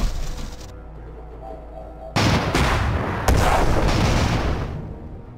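Cannon fire from an airship battle in the video game Conquer the Skies: a continuous barrage of booming shots and blasts that erupts suddenly and stays loud and dense for several seconds, with no talk over it.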